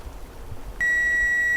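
A kitchen timer, set for 11 minutes while crab cooks, goes off partway through with a loud, steady high electronic beep that holds without pause over quiet room noise.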